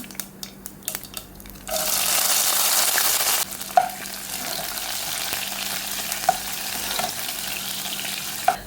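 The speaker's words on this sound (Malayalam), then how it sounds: "കടുക് പൊട്ടി വരുമ്പോൾ നമ്മൾ നേരത്തെ അരിഞ്ഞു വെച്ചിരുന്ന ചെറിയ ഉള്ളിയും കറിവേപ്പിലയും അതുപോലെ തന്നെ ഉണക്കമുളക് കൂടി ഇട്ട് കൊടുക്കാം." Mustard seeds, chopped shallots, curry leaves and dried chillies drop into hot oil for a Kerala prawn curry, setting off a loud burst of sizzling that settles into steady frying with small pops and spatters, no voices.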